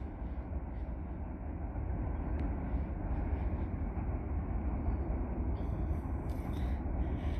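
A very long freight train rolls through Nenana, a steady low rumble and rattle of rail cars that holds constant throughout, with a faint squeal or clank near the end.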